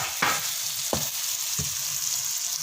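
Masala with tomatoes and green chilies frying in a pan gives a steady close sizzle, broken by three sharp spatula scrapes at regular intervals.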